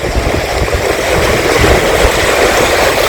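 Lake Yverdon in Switzerland laps at the shore in a constant, loud wash of water, with a continuous broadband rush and low churning and no voices.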